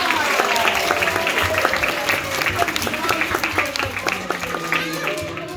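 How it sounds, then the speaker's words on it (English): Audience applause at a live science show after a volunteer's demonstration, dense clapping with some sharp individual claps and a voice talking faintly over it. "Give her a big round of applause."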